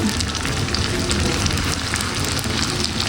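Sticky rice lumpia frying in oil in a pan give a loud, dense, continuous sizzle that fills the whole moment close up, with no talking.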